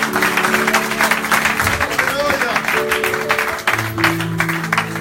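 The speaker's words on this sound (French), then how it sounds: "on acclame très fort pour Jésus." A church congregation claps and cheers loudly for Jesus, producing continuous dense applause with crowd voices throughout.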